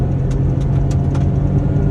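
Steady, loud engine drone from a VW Virtus GT and a Virtus 1.0 TSI drag racing at speed in third gear, heard from inside a car, with a few faint ticks over the continuous hum and no talking.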